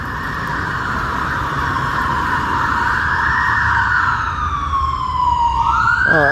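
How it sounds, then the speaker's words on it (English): An emergency vehicle siren wails with a steady rising and falling tone at moderate distance and grows louder toward the end, where it switches to a rapid yelping pattern. "I do hear sirens."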